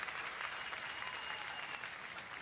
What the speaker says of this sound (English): Somebody clap real loud.